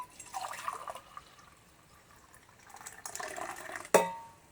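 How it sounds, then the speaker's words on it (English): A homemade natural sports drink is poured into a glass: soft liquid trickles and drips in bursts, ending with a sharp clink, all close and quiet with no talking. "So I'm going to serve my drink"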